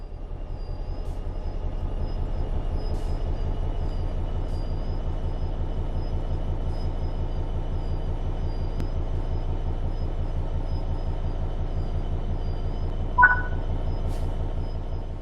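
Train in Train Sim World 3 pulling away under throttle, a steady low rumble of traction motors and rolling wheels growing slightly, with a brief high squeal near the end.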